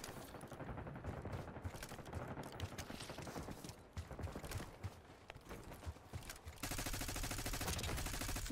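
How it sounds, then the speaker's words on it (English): Gunfire in the Black Ops 6 multiplayer beta, with rapid bursts of automatic shots crackling throughout amid game noise, growing denser and louder near the end. "I was shooting at somebody, missed, and shot a barrel behind them and killed them."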